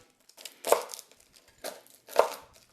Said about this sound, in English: we'll just lightly smash the garlic clove, give it a little shimmy shake